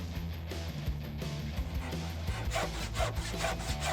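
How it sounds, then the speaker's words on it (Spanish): Handsaw cutting through a wooden board at an angle, a steady back-and-forth rasping that runs continuously at close range over a low background hum. "cortamos con el serrucho"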